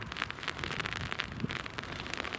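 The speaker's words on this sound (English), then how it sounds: "as you can probably hear, because I've just had to put the brolly up, it's raining" Steady patter of rain drumming on an open umbrella during Storm Ashley at Newcastle Airport, a dense, continuous close-up spatter with no talking.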